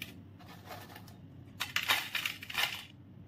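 Crispy homemade potato bhujia made with an empty bottle is crushed by hand into small pieces, giving close, quiet, brittle crackling and crunching in a few short bursts over a soft background hiss.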